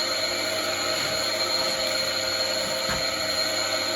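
An electric sharpening wheel hums at a steady high-pitched whine, with brief gritty grinding touches as a blade is pressed against it and drawn across a couple of times.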